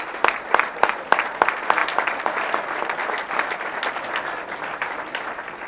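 Audience at a 2005 Oregon sports hall of fame dinner applauding athletes, with sharp, loud individual claps at the start that swell into sustained, dense clapping from the room.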